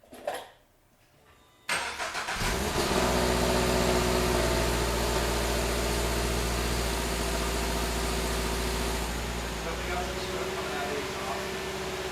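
A Toyota GR86 engine with aftermarket headers and stock catback exhaust cranks and fires up, then settles into a loud, deep, rumbling idle that holds steady.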